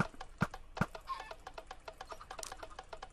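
Chickens in a Minecraft automated chicken and egg farm cluck in a quick, busy stream of short clucks and squawks, with two sharper pops near the start, close and moderately loud.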